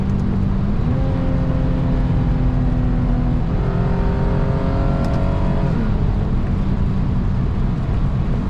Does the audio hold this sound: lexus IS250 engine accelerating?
yes